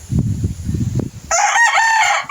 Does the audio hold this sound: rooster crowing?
yes